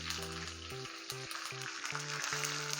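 Curry leaves crackling and sizzling in hot oil with mustard seeds, a dense close-up frying hiss with sharp spitting pops throughout, no talking.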